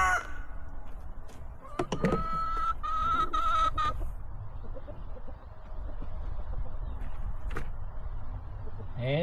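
Backyard chickens being fed lettuce from a bowl give a short burst of clucks and squawks a few seconds in. Then a low outdoor background takes over.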